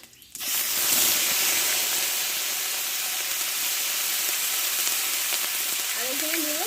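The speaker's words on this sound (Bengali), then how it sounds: "এই তেলে আমি তিনটি শুকনো লঙ্কা দেবো আর হাফ চামচ মতো আমি পাঁচফোড়ন দিয়ে দেবো" Three dried red chillies and half a spoon of panch phoron hit hot oil, bursting into a sudden, loud, continuous sizzle that holds steady, with a brief voice at the very end.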